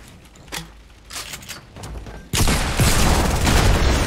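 Gunfire in the battle royale game Fortnite during a competitive Scavenger Cup match: a few scattered shots, then a sudden loud, dense burst of continuous firing and explosions filling the last half.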